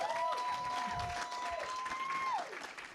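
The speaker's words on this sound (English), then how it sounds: "Can we get like a loud round of applause for the end of the podcast?" Live audience applause and cheering at the close of a podcast recorded at a blues venue, a steady roar of clapping with a whistle-like tone riding over it.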